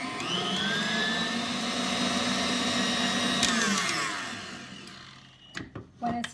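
An electric mixer whirs through cupcake filling with vanilla, a steady high motor whine that winds down near the end, followed by a few clattering knocks.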